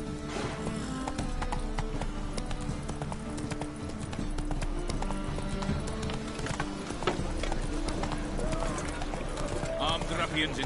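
Roach, a horse in The Witcher 3 video game, gallops with steady, rapid hoofbeats and may give a brief whinny. Game music and ambient sound play throughout, and there may be talk underneath.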